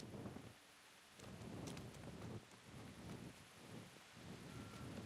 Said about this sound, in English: Was it raining? Oh, it's raining.